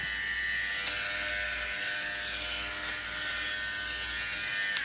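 A steady, close electric buzzing motor hums continuously with no pauses, a small fabric shaver running on a low setting, removing pilling from a jacket.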